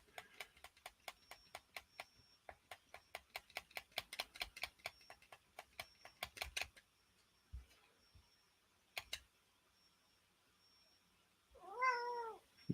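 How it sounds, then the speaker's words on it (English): A single cat meow rises near the end, following a long run of rapid, steady ticking clicks and a few isolated knocks. "Oh, hi, Kitty"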